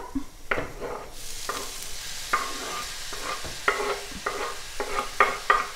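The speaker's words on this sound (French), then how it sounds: "Donc je vais rajouter mon choucal." Kale tossed into a frying pan of cooked potatoes, sizzling steadily with a series of sharp stirring scrapes and clatters, close and fairly loud, with no talking.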